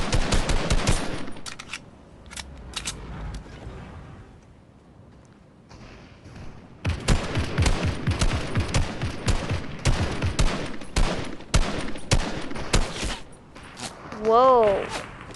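Bursts of shotgun fire in a toxic online shooter game come in fast, loud clusters of sharp blasts separated by a quieter stretch, with a player talking over parts of the action.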